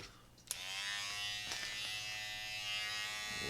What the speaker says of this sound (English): We'll just shave a little bit off.